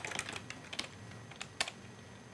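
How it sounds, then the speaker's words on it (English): Keys on a computer keyboard click in short, uneven bursts of typing, quiet and close, with no one speaking. "I'm gonna type it on in."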